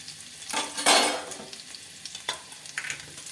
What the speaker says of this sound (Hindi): तो ये मेरा तेल गरम हो रहा है। इसमें मैं लहसुन और अदरक थोड़ा सा काटी थी तो वो डाल दूंगी।